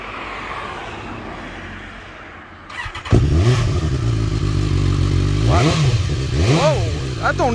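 A 2020 BMW S1000R motorcycle with carbon fiber parts starts up loudly up close and revs repeatedly, rising and falling engine pitch over a rough idle.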